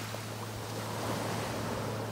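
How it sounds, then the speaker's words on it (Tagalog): Strong surf at Kitanowaki Beach in Anan City, Japan: a low, continuous roar of waves mixed with wind buffeting the microphone, faint and steady throughout. "marami po nag-surf doon kasi malakas ang alon"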